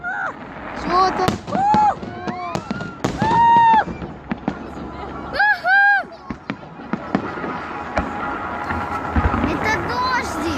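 Birthday salute fireworks burst in repeated loud bangs and crackles, with rising whistles between the blasts, while voices chatter excitedly throughout and the booms keep coming at irregular intervals.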